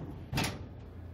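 Oven door on a freshly cleaned stove: a single short thud with a light rattle as the door swings, followed by quiet room noise.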